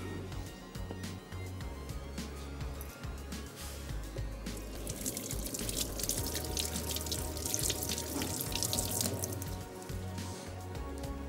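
Water dabbed onto dough while preparing chicken malai patties, soft wet patting and dripping sounds that grow busier in the second half, close and fairly quiet with no talk.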